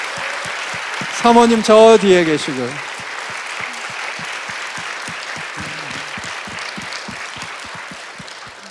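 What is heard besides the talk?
church congregation applauding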